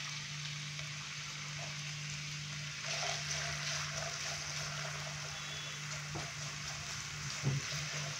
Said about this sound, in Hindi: तो यहाँ पे आलूओं को हम मीडियम फ्लेम पे 2 से 3 मिनट के लिए थोड़ा सा फ्राई करेंगे।